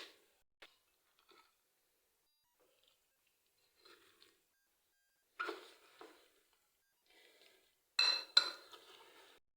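Chicken being mixed by hand in a bowl with ground garlic, salt, chili and spices: a few faint, sparse clinks and wet squelches in near silence, with two louder bursts toward the end.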